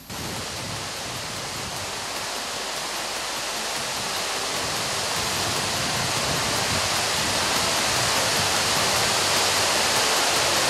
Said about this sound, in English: Another waterfall is the Tamia Fiala Waterfalls, which also needs to be harnessed for both tourists and electrical purposes.